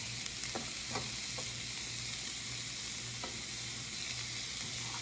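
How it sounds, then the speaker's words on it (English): Ground beef browning in a pan, a steady sizzle running throughout with a low continuous hum beneath and a few sharp clicks of a utensil scraping and chopping at the meat. "I'm gonna start with browning our roast beef"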